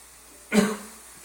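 A neutral pH carpet pre-spray hisses onto a stained carpet in one short, close burst of spray lasting under a second before fading.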